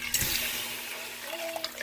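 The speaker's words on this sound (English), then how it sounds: "I'm gonna add the water to it." Water is poured into a cooking pot holding chicken gizzards, making a steady close splashing rush that continues throughout with no talking.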